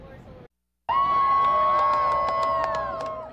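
A large outdoor crowd at a total solar eclipse bursts into loud cheering after a brief hush, with whoops, shouts and sharp whistles carrying on steadily.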